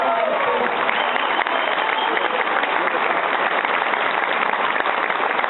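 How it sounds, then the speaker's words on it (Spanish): Loud, dense applause from the audience at a Partido de la Revolución Democrática political gathering in the State of Mexico fills the room, a steady unbroken roar of many hands clapping throughout. "Dense un fuerte aplauso a todos ustedes."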